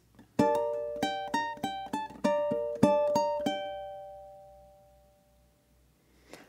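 Ukulele plucks the second bar of Danse Macabre, a quick run of bright, ringing high notes in a steady rhythm, then a final note left to fade into near silence, heard alone without talk.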